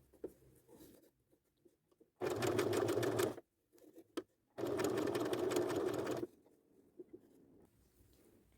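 A sewing machine stitches a hem in two loud, steady bursts of rapid needle chatter, each lasting about a second or two, separated by a short pause, with quiet handling noises before and after.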